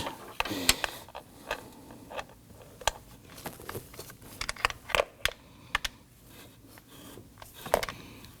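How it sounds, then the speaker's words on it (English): A ratchet tightening a bolt for the VVT adjuster magnet on a 2018-2024 Toyota Camry 2.5L four-cylinder engine: quiet, irregular bursts of sharp clicks, close up, separated by short pauses, with no speech. "Bring our ratchet down inside."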